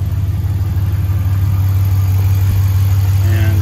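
A Dodge Ram Hemi 5.7 engine idles while warming up during a coolant flush, a loud, steady low rumble with even pulsing close by and no talk.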